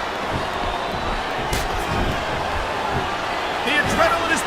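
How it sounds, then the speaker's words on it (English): Dense, steady arena crowd roar from a WWE SmackDown vs Raw 2007 wrestling video game, continuous throughout and swelling slightly near the end. "The crowd is coming alive."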